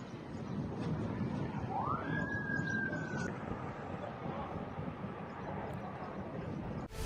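A faint siren in Lebanon rises into a single long held tone that then fades, heard at a distance over a steady background rumble.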